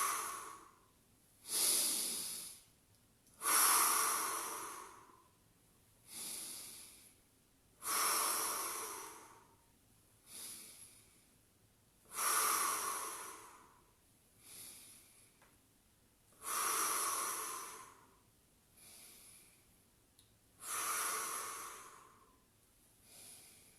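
Heavy, rhythmic breathing during a Pilates mat exercise, with about ten long, forceful breaths in and out, some hissy and snorting, evenly spaced and close, with no talk.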